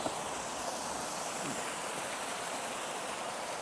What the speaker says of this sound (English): there's something amazing about running water